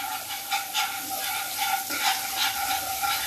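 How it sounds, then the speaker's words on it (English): Cold butter sizzling and crackling in a hot pan while making butterscotch, a steady hiss with small pops and stirring sounds close by. "Now I'm gonna add cold butter to it. Okay, and it's gonna sizzle,"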